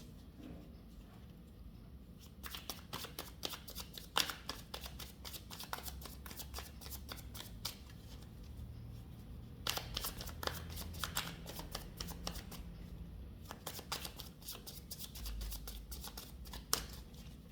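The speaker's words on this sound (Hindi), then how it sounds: "चलिए मैं शफलिंग करती हूँ" Tarot cards being shuffled by hand: repeated quick riffling and sliding bursts with short pauses between rounds, close but fairly quiet, over a low steady background hum, with no talking.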